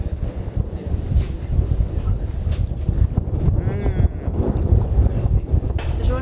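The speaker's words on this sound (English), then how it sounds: "there's a lot of wind here" Strong wind buffets the microphone outdoors, roaring steadily throughout at a food stall in Bukittinggi, Indonesia, with faint voices and street activity mixed in underneath.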